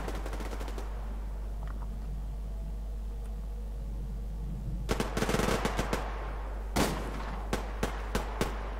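Bursts of automatic gunfire in the online shooter Survarium, loud rapid volleys starting around the middle, then scattered single shots and short bursts over a low constant hum, with no voices.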